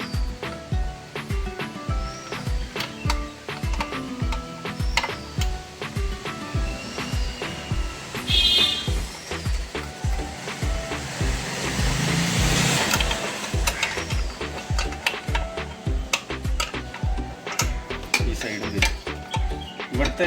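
Bolts are fitted and tightened on a motorcycle carburetor, with a long run of rapid, evenly spaced ratchet-like metallic clicks, close up, and a brief louder scraping, rattling burst partway through.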